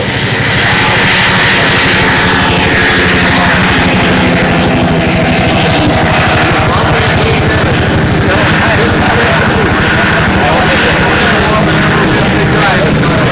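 A model airplane at a windy 1997 national championship contest makes a flyby, its engine droning loud and steady throughout over strong wind noise, with voices faintly audible underneath.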